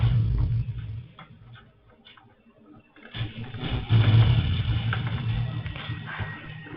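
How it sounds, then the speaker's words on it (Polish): A tank rumbles along in the Call of Duty video game, a low continuous engine drone with ticking mechanical clatter that dips briefly, then swells back louder and steady. "tam czołg chyba jedzie"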